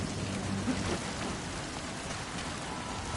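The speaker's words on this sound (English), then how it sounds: "The rain covered up the sound of my footsteps." Steady rain pours in the video game Metal Gear Solid V, a dense, even hiss with a low rumble underneath, continuous and free of speech.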